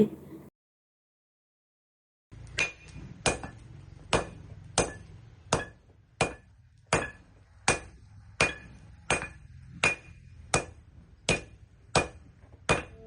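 Steady, evenly spaced hammer strikes on iron at a village blacksmith's forge ring out one after another after a brief silence, about fifteen sharp metallic clangs at a slow working rhythm.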